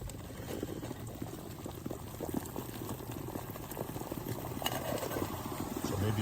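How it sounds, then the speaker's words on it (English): Water boils hard on a BRS-3000T ultralight titanium camping stove, a steady close bubbling and roiling hiss that swells slightly louder toward the end. "I wasn't boiling it at its hottest"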